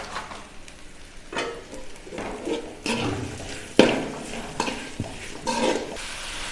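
Okra sautés with masala and salt in a pan, giving a steady sizzle broken by scraping stirs and a sharp clink of the utensil, close by with no talking.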